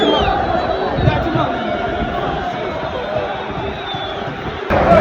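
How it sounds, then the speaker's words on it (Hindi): Broad crowd noise rumbles continuously outside a football stadium before a club match, with someone talking close over the dense murmur of the gathered fans. "ये पीछे यहाँ पे दिख रहा है स्टेडियम, काफ़ी शोर भी आ रहा है।"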